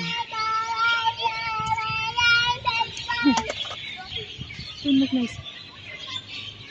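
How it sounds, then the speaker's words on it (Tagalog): Birds chirp and twitter in a dense chorus at a playground at 8 pm, with several voices and children talking nearby over the calls. "Huni ng mga ibon guys."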